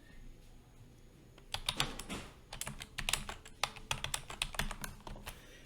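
Keys on a computer keyboard are typed into an Excel spreadsheet in quick irregular bursts of crisp clicks, close and quiet, following a few seconds of near silence.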